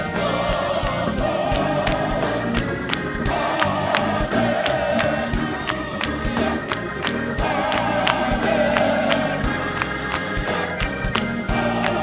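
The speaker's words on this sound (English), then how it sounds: "Applause in here." Congregation applauding during a church Men's Day service at a holy convocation, steady dense clapping and crowd noise filling the whole stretch with organ or music tones underneath.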